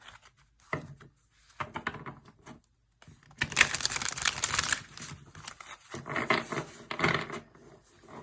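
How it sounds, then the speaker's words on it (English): Tarot cards are shuffled in quick bursts of riffling and flapping, separated by short pauses, close and fairly quiet. "I'm going to shuffle here."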